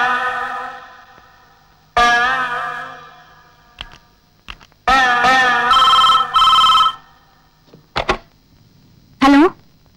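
A telephone rings with an incoming call in a Malayalam film scene, sounding in several loud, separate bursts with gaps between them and a little echo, with no voices over it.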